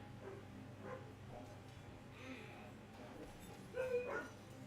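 A husky indoors gripes with a few faint whimpering yips and a short bark-like outburst near the end, heard at a distance over low background hum.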